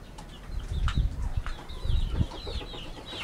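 Chickens and chicks in a flock cluck and chirp close by in short, irregular bursts, with a few brief higher calls and scuffles over a steady outdoor background.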